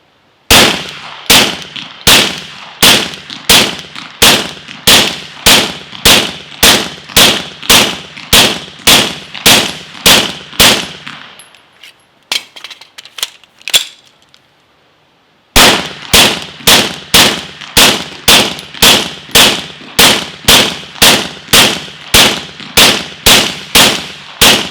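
Suppressed 9mm gunshots through a Gemtech GM-9 silencer firing 158 grain subsonic Fiocchi ammo, sharp evenly spaced cracks in two long rapid strings separated by a short pause with faint handling noise.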